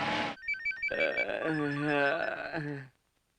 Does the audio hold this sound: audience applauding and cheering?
no